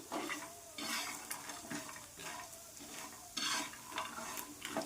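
Spices roasting in a pan for a drumstick vegetable dish, with a gentle sizzle and rhythmic scraping strokes of a spoon repeating every second or so; close and fairly soft, no voices.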